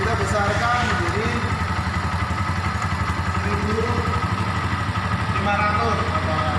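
A motorcycle engine with a conventional carburettor idles steadily nearby while the starter screw and air screw are adjusted, giving a continuous low, even pulsing throb throughout.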